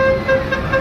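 A short, loud tractor horn toot with a steady tonal blare, heard up close and lasting under a second.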